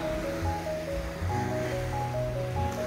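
Gentle surf washes onto the beach at Playa del Carmen, a soft, steady hiss of breaking waves heard faintly from nearby.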